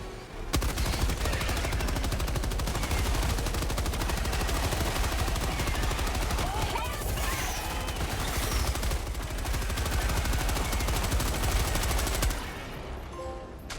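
Dense, nonstop gunfire fills a Helldivers 2 battle. Rapid automatic bursts mix with heavy blasts for about twelve seconds, loud and close, then cut off abruptly near the end.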